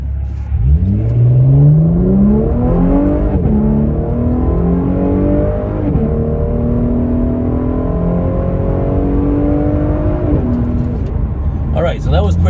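A tuned LF4/LF3 car accelerates hard on a highway, its engine pitch sweeping steadily upward through the gears in a loud, continuous rising drone with brief shifts between pulls.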